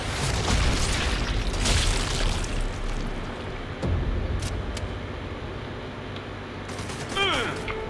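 A bomb explodes in the video game Sniper Elite 5: loud, deep booming bursts with heavy rumble, the strongest early on and another sharp blast midway, over steady in-game background noise.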